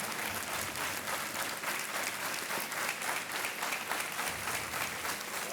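Sustained clapping from a studio audience at a TV quiz show, a thick, even wash of many hands that holds steady throughout with no voices over it.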